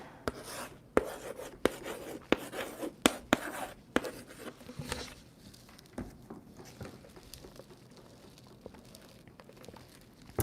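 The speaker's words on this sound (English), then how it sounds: "These crystals are clicking nonstop." Crystals click and tap against a table during a tarot reading. The sharp, irregular clicks come in a dense burst for about five seconds, then thin out to a few scattered taps, close and fairly crisp, with no talking.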